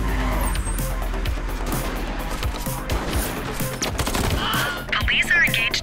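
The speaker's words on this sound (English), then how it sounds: "Police are engaged in a dramatic shootout." Rapid police gunfire in The Precinct video game shootout, with bursts of automatic shots, car engines and tire squeals mixing into a dense, loud and continuous action scene.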